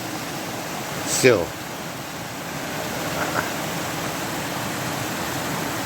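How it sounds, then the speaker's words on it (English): Water running at Little Falls in Promised Land State Park, a steady broad rush filling the whole stretch, with a brief word spoken over it early on. "you can hear nothing else back here but that water running"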